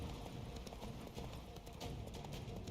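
Roach, Geralt's horse in Witcher 3: Blood and Wine, trots with steady, rapid hoofbeats, a continuous clip-clop close by under the game's ambient noise.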